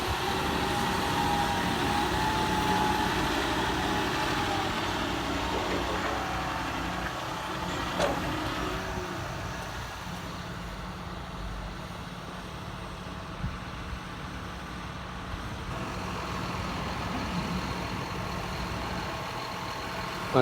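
A John Deere 6155R tractor rumbles past with a low, steady engine drone that slowly fades, moderately distant, heard alone with faint background noise.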